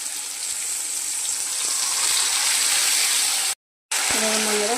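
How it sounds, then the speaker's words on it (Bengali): Spice paste fries with added water in a pan for a rohu fish curry, a loud, steady hissing sizzle that cuts out briefly to silence and then returns with a short tonal hum. "মশলাটাকে দিয়ে দিচ্ছি, জল দিয়ে দিচ্ছি।"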